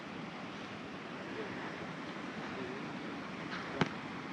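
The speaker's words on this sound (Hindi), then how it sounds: "और साइड में नदी बह रही है।" A river rushes beside a mountain trail on the Adi Kailash and Om Parvat route, a steady broadband roar of flowing water heard continuously and fairly close, with one brief sharp click near the end.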